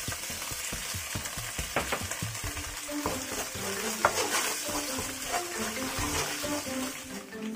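Hotpot seasoning stir-fried in a wok for a spicy wide-noodle dish, a close, crackling sizzle with repeated scrapes and clinks of a spatula against the pan.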